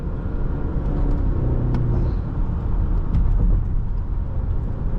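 A 2017 BMW X5 xDrive50i with a V8 engine accelerates from inside the cabin, a steady, heavy low rumble that holds at an even level throughout.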